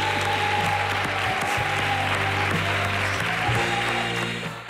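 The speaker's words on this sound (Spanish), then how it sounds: "Fuerte aplauso para Antonio Ródena." A television studio audience breaks into loud, sustained applause, a thick wash of clapping that stays level and fades slightly at the very end.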